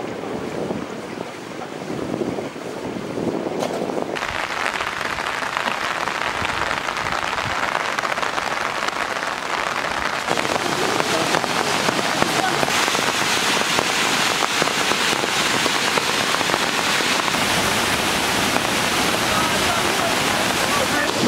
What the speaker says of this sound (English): Better than the big falls?